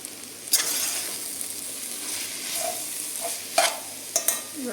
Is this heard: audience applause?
no